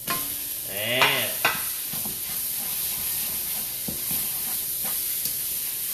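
Minced pork stir-fried with aromatics in a pan sizzles steadily up close, with occasional scraping stirs and clinks over the constant hiss of hot oil.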